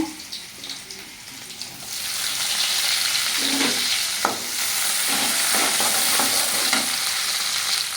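Chopped shallots hit a hot pan for prawn gravy and start to sizzle loudly, with a few spoon scrapes as they are stirred.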